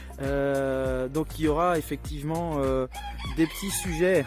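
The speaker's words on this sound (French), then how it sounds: "on vient d'entendre un coq là, qui vient de chanter" A rooster crows loudly and close by several times in a row in a rural farmyard, each long, wavering call following quickly on the last, while someone speaks over part of it.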